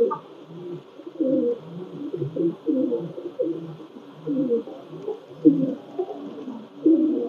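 Female Pakistani Teddy pigeon cooing at night, a run of soft, low rolling coos repeated in uneven bursts close by, over a faint steady background hum.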